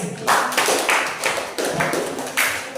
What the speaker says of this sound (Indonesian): Oke, tepuk tangan untuk yang lain.